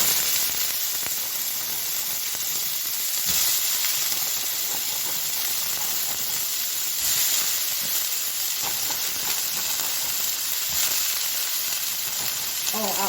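Spinach and broccoli go into an oiled frying pan, a steady loud hiss and sizzle of steam running the whole time with faint clatter and a little background noise.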